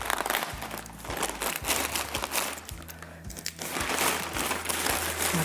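Crinkly yellow DHL plastic mailing bag rustled and pulled open by hand to free a boxed DJI Osmo Pocket, with close, continuous crumpling and crackling and a few sharper tugs.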